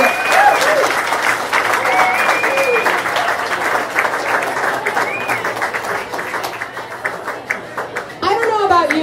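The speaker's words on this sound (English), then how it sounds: "Give him a round of applause, everybody." At a Nerd Nite talk night in Ann Arbor, the crowd gives a speaker a round of applause, steady clapping with whoops and chatter mixed in, with voices rising over it near the end.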